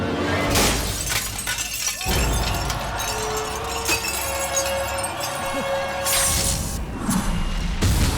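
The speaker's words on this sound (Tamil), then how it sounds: "கண்ணாடி ஏண்டா உடைச்ச?" Glass shattering loudly in a Tamil film scene, a sharp burst of breaking and tinkling shards over busy background sound, with brief voices.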